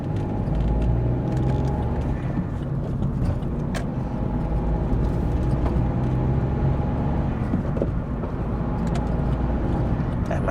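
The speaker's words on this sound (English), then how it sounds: "this car is actually fun to drive" A 2021 VW Polo Vivo GT on the move, with a steady engine drone and road rumble filling the cabin from start to finish at an even, fairly loud level.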